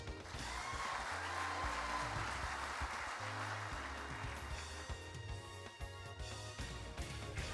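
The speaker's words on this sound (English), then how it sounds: "Let's give Joseph a round of applause." Audience applause rolls through a hall at the Kansas FFA convention awards session, a steady, dense wash of clapping that lasts several seconds over low music or background sound.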